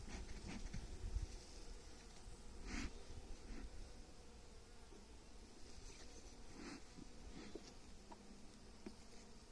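Honey bees swarm around a beehive feeder in an outdoor apiary, a soft steady buzz with several louder close passes as individual bees fly near.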